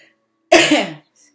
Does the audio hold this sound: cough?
yes